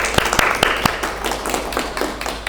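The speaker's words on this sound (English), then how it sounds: "Clap your hands for her." A classroom audience claps for a student, a brief burst of sharp, fairly close hand claps with uneven rhythm, thinning out into scattered softer claps and light room noise.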